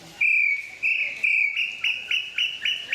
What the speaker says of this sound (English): That's that little bird there makes all the noise.